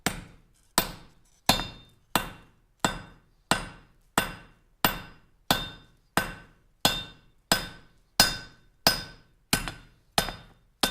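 A treadle hammer strikes metal on an anvil in a steady, even beat of about sixteen sharp, ringing blows, each one a little under a second apart and each decaying quickly before the next. The strikes are close and loud, with no voices.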